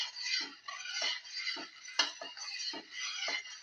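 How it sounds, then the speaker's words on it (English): A spoon stirs vermicelli pasta through a grape and coconut milk mixture in a pot, with about eight soft, regular scraping and clinking strokes against the side, close and fairly quiet. "Mix the vermicelli pasta in the grape coconut milk mixture"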